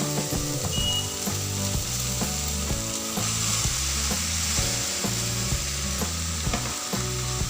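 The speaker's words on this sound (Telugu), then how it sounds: "పాలకూర ఒక 2 మినిట్స్ ఇలా ఫ్రై చేసుకున్న తర్వాత మనము ఉడికించి చల్లార్చుకున్న రైస్ కూడా ఇందులో వేసేద్దామండి" Spinach stir-fried in a pan with cooked, cooled rice for palak rice gives a steady, close sizzle with scraping stirs, running continuously beneath rhythmic background music, with no talking.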